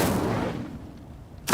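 In Hogwarts Legacy, an Incendio fire spell goes off as a loud, booming burst that fades over about half a second into near quiet, and another sharp blast starts at the very end.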